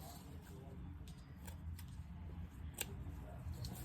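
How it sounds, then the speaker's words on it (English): Scissors trimming paper for a paper bag junk journal, giving a few soft, scattered snips close by over a low background hum. "I'm gonna go ahead and trim this so it's out of my way."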